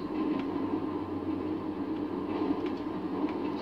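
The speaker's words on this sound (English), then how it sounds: "Train's getting faster." A moving train in the GTA video game rumbles steadily with a continuous low roar and faint rattling, sustained and even throughout with no talk.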